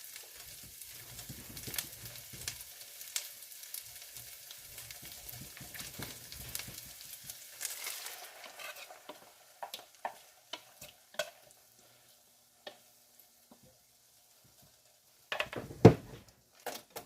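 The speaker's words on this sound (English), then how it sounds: "I'm going to go ahead and start throwing everything else in, the eggs, potatoes, and the bacon" Chorizo, eggs, potatoes and bacon frying and being stirred in a pan, a soft steady sizzle with scraping strokes that thins out midway, then a few louder clatters near the end.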